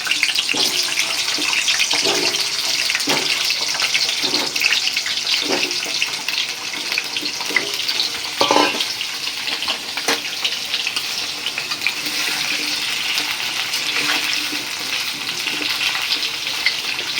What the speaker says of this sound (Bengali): এখন এটা তেলে ভেজে নিব আমি আগেই প্যানে তেল দিয়ে রাখছি আলুগুলা একটু ভাজা দিই